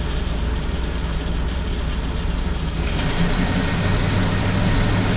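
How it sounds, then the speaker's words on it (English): A car engine runs with a rough low rumble, then grows louder and fuller partway through as it revs up. "you're going to hear the engine start to rev"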